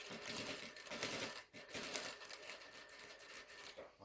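Sewing machine stitching box pleats in fabric, a steady rapid mechanical whir and clatter of the needle, close and continuous with a brief dip midway.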